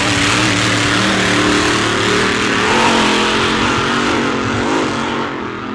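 A race boat engine roars loud and close on a lake, a sustained throaty drone that swells slightly midway before easing off toward the end, with no talk over it.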